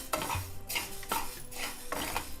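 Coriander seeds dry-roasting in a pan for chaat masala, a soft rattle as a spoon sweeps and stirs them in slow regular strokes with a faint sizzle underneath, close and quiet.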